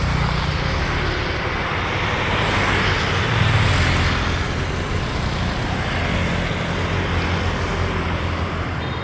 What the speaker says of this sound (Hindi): ये रही बस हमारी, देख लीजिए, ये जा रही है हो चिन मिन सिटी दनांग से